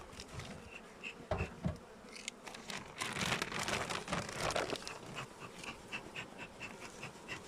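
Honey bees buzz densely around beehives being inspected and merged before winter, a close, continuous swarm hum with scattered crackles and taps of hive handling.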